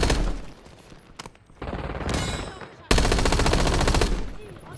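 Rapid automatic gunfire from a video game, loud and close, arriving in dense bursts with brief gaps and ending in a long sustained volley, with game voices faintly in the mix.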